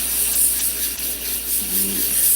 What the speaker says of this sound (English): Sanding that down.